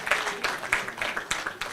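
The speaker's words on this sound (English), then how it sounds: "please clap for Sarah" Audience applause for Sarah from Mempro at a women's open event: a short, dense patter of many hands clapping, steady and moderately loud, with no talk over it.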